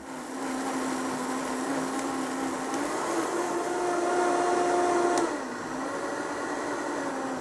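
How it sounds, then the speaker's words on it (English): A blender running on rinsed quinoa, water and salt for wrap batter, a continuous close whirring drone whose pitch shifts upward midway, then drops back as the load changes. "Put the lid on and blend."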